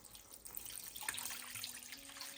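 Tap water running into a pot of rinsed dal, a steady broadband splashing and pouring that continues throughout, fairly close and moderately loud with no talk.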